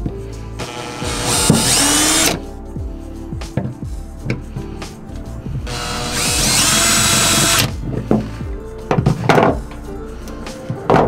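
A power drill fitted with a 3/8 inch bit bores holes for a propane tank mount in a truck bed, in two long loud whining bursts with short spin-ups, pauses and clatter between them.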